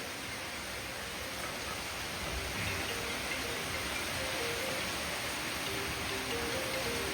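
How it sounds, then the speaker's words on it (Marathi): Continuous broadband hiss of rain falling steadily outdoors in a village, even and unbroken throughout, moderately distant, with no voices. "पाऊस कमी झाला खाल्लीकडं अजून चालू आहे बघा"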